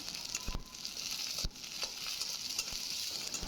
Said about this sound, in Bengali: কাঁচামরিচ দিয়ে আমি ভালো করে পেঁয়াজটাকে ব্রাউন করে ভেজে নেব